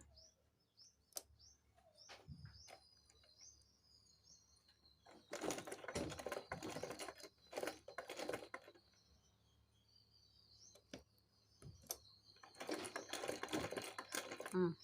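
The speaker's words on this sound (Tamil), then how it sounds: "ரஃப் கட்டி கொஞ்சோண்டுக்கு ஒரு 1/4 இன்ச்சு தைக்க ஆரம்பிச்சிடணும்." A sewing machine stitches a quarter-inch seam on skirt (pavadai) fabric, running in two loud bursts of rapid whirring with quieter gaps between, while birds chirp in the background.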